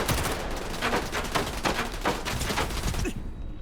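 Sustained rapid gunfire in the video game STALKER 2, a dense, loud fusillade of overlapping shots running throughout and cutting off near the end.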